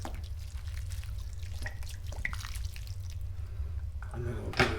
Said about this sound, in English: And we're going to put some water in there with it.